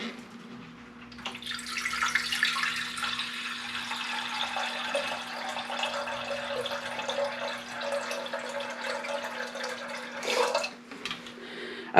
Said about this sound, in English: And put some water at the bottom of this.